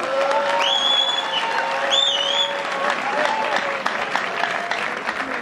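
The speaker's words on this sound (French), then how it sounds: "Applaudissez encore une fois quand même." An audience applauds at a graduation ceremony for finalists at ISIG in Goma, steady clapping throughout with whistle-like tones and other sounds layered over it.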